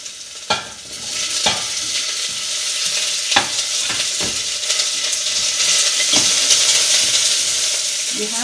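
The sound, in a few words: garlic and onion sizzling in hot oil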